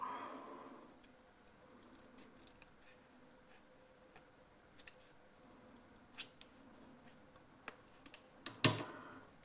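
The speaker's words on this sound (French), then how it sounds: "On coupe. Hop, et je coupe en haut." Scissors snip paper for a scrapbook embellishment, giving a run of short, crisp cuts scattered through a quiet room with no talking, the sharpest snip near the end.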